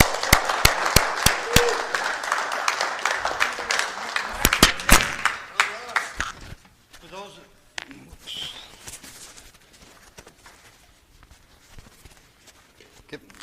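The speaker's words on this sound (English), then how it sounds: "let's give him a warm round of applause for Mr." An audience gives a speaker a warm welcome with a burst of lively clapping that lasts several seconds, then thins to scattered claps and fades as the room settles and someone starts to speak.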